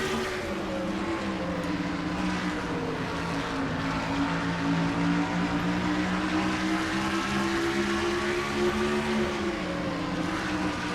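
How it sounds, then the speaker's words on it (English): Race cars circling the Richmond short track in a racing video game, engines droning steadily with rising and falling pitch for several seconds, loud and continuous with no speech. "Slicing and dicing up front, and this is short track racing at its finest."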